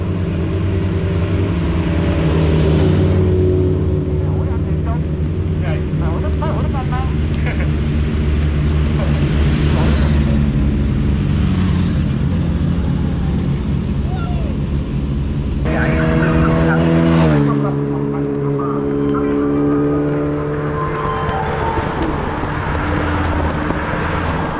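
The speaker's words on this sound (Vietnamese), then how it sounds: "tổ chiếc mô tô dẫn đầu đoàn đua xe đạp đây mọi người" A convoy of lead motorcycles escorting a bicycle race into central Hue rumbles past in a long, loud engine drone with rising revs near the middle, while people talk over the passing procession.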